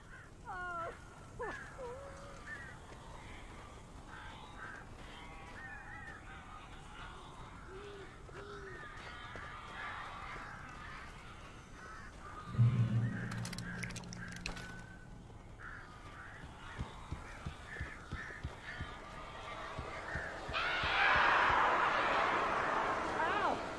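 Crows caw in the Alan Wake video game, several scattered harsh calls mixed with hooting bird sounds over low ambience, with characters talking throughout.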